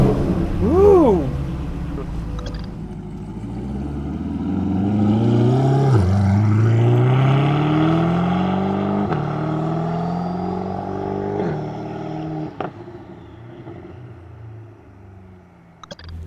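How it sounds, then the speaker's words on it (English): A twin-turbo C8 Corvette fitted with FuelTech engine management starts up and revs, the engine note rising and falling loudly through a long swell before settling toward idle, with someone exclaiming near the start. "So run the engine. So let's fire up."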